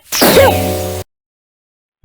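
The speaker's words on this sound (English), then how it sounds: "I sneezed on him 5 times by accident" A single loud, close sneeze bursts out with a sharp intake and explosive release, then cuts abruptly to silence.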